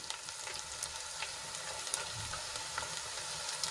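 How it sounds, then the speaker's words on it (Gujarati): Tomatoes added to golden fried onions sizzle in a pan, a steady soft crackle with scattered pops and light stirring scrapes, fairly quiet and without voices. "તો હવે એમાં આપણે ટમેટા એડ કરીશું"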